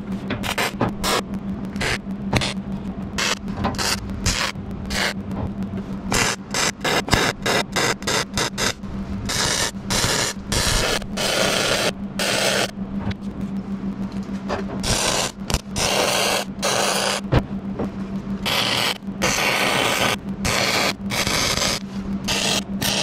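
Welding braces onto the deck of a jon boat, a steady harsh crackling buzz broken into many short bursts and pauses as tacks and passes are laid, close and loud with a constant low hum beneath.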